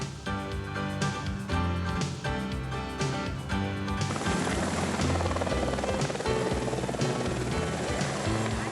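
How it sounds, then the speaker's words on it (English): A helicopter's steady rotor drone runs throughout, loud and continuous, blended with music that thickens into a denser wash partway through, on a scenic tour flight over an Alaskan ice field. "Helicopter tours to the ice field are exciting."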